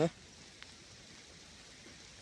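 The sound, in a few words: rain falling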